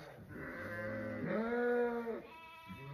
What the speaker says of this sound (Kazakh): Биздин чарбада болсо койдун төлү болуп атат.